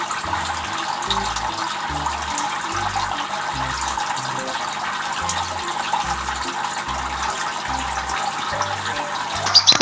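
A goldfinch splashes in a water-filled bird bath under a shower spray, giving a steady broadband trickle and gush of running water that stays loud and continuous throughout, with no voices.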